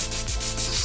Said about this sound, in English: you just keep sanding them out until the blade is clean again